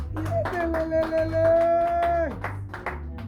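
Clapping rings out during a Sunday church worship service, with a fast rhythmic run of hand claps from the congregation under a sustained sung or voiced tone, fairly close and moderately loud.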